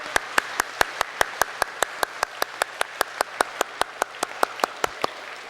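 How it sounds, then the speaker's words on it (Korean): Worshippers in a Full Gospel church clap together in a steady, evenly spaced rhythm, each sharp clap distinct and moderately loud over a quiet hall, continuing for several seconds. "우리 감사의 박수로 영광을 올려드립시다"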